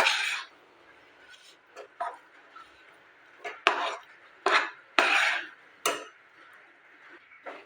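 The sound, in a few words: suji mixture scraped from a kadai onto a steel plate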